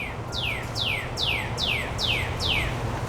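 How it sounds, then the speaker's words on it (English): A bird gives a series of six evenly spaced, descending whistled calls, clear and fairly close over a low background hum. "Bird wants me to listen right now."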